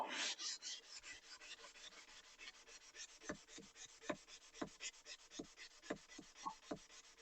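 A steel engineer's square is rubbed by hand on worn 400-grit sandpaper, giving a quiet, raspy scrubbing in a steady back-and-forth rhythm of about two strokes per second, close up with no talking.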